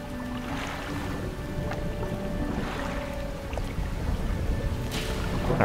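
A boat engine runs steadily in the fishing video game Dredge, a continuous low hum and rumble with soft water sounds layered over it, fairly loud throughout.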